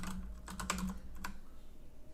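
Quick bursts of keystrokes on a computer keyboard, clattering for about a second before trailing off into a low steady background hum, no talking.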